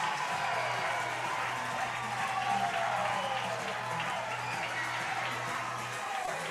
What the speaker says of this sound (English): And this home crowd erupts.